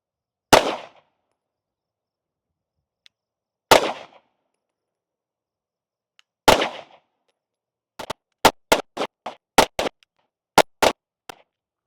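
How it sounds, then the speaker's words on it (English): A Sig P365 X Macro pistol fires sharp, loud shots at a range: three widely spaced single shots, then a quicker string of about ten shots in close succession, with no talking. "I think that might have only been 14 shots actually"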